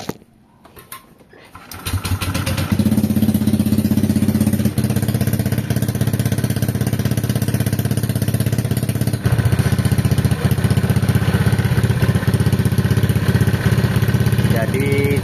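A bored-up Honda Vario 125 scooter engine is started after a short quiet moment, then runs loud and steady at a close idle with a brief rise in revs partway through.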